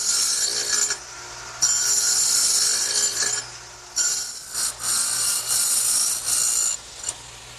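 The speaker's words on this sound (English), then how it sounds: "I've set the radial arm up with a dado cutting blade" Radial arm saw fitted with a dado blade plows wide grooves in wood, several loud whining passes of about a second each separated by short lulls, close and with no talk.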